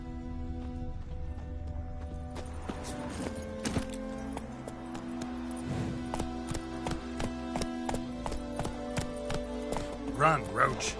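Hooves of Roach, the horse in The Witcher 3, clip-clopping in a quick galloping rhythm under game music and talking, the beats growing louder toward the end.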